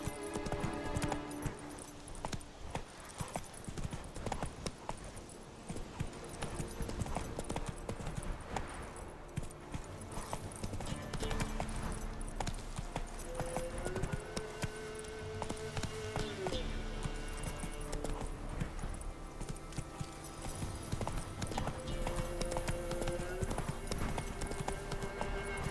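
Horse hooves clip-clop steadily at a gallop in The Witcher 3 video game, a continuous rhythmic pounding throughout with game music and ambient sound underneath.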